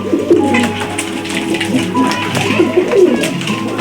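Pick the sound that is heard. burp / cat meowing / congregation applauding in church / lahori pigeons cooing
lahori pigeons cooing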